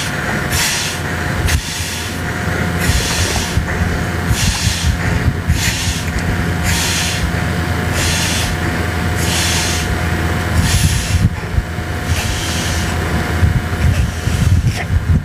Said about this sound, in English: the only thing to do is just manually get over here and inflate it